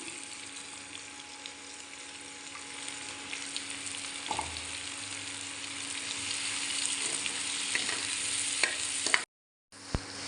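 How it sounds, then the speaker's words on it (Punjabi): Onions sizzle steadily in reduced oil in a pan while bhindi masala is cooked, a dense continuous frying hiss with a few scrapes of stirring, no talking, cutting out abruptly near the end. "ਥੋੜਾ ਜਿਹਾ ਪਿਆਜ਼ ਪਾ ਲੈਂਦੇ ਆ ਪਿਆਜ਼ਾਂ ਨੂੰ ਆਪਾਂ ਹੋਣ ਹੁੰਦੇ ਤੱਕ ਪਕਾ ਲੈਂਦੇ ਆ"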